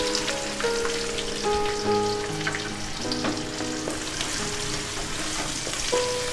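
Finely chopped onions fry in a pan for chicken gravy alongside bay leaf and curry leaves, giving a continuous close crackling sizzle with scattered pops and light stirring, steady throughout.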